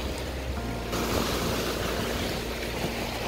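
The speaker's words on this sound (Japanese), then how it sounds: "ただ沖でやばい波が炸裂してます" Ocean waves break offshore at Kahaluu Beach on Hawaii's Kona coast, a continuous distant surf wash mixed with wind rumble across the microphone.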